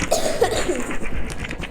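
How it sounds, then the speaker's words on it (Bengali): A person coughs during a Roblox gaming session, a short rough burst of a few hacking pulses heard close to the microphone with no speech over it. "আমি একটু কাশি আছে বলছিলাম"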